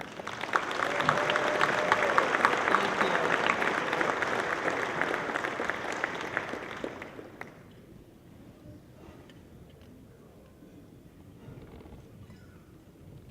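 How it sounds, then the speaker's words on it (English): Banquet audience giving a round of applause for Hall of Champions inductees, loud dense clapping for about seven seconds before fading into room quiet; a brief spoken word follows. "please give a round of applause to our fabulous inductees into the Hall of Champions tonight"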